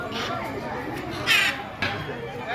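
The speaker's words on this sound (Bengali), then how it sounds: "পাখির যা ডাক" Crows caw repeatedly against a busy background, with a couple of louder harsh calls standing out among steady chatter and noise.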